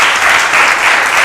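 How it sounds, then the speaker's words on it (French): Audience applause on a French television talk show set, a steady dense wash of clapping that stays loud and even throughout without any voices. "Et je voudrais qu'on applaudisse ça encore."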